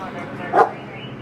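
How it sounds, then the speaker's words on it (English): A dog gives a single short bark close by, standing out briefly over ongoing background noise. "Look at that dog right by his face."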